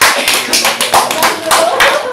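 A village group claps together at a stipend handout for cadres, a dense burst of many hands with uneven, pulsing rhythm, close and loud throughout.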